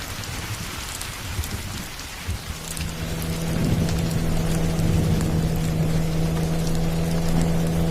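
Heavy rain pouring down at night with thunder, a dense loud hiss that swells after a few seconds as a deep rumble rolls in beneath it, with no voices.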